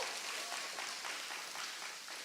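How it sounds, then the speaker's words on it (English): A congregation applauds at a B Mitzvah ceremony, a steady, fairly distant wash of many hands clapping without pause. "So let's clap one more time"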